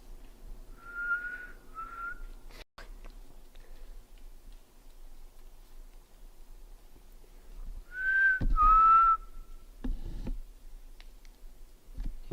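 Mysterious whistling on a lonely trail: two short whistled notes near the start, then a louder run of three or four tones around the middle, with a few sharp clicks and quiet outdoor background between them.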